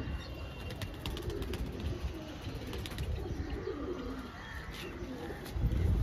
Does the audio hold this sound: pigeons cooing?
yes